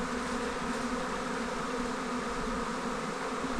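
A swarm of bees hums steadily and densely as it pours into a nucleus hive after taking over a weak colony, a continuous close buzzing drone with no voices.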